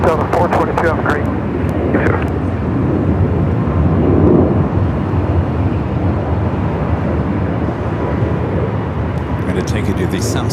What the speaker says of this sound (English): Austrian 777, number 2 for takeoff here on the north.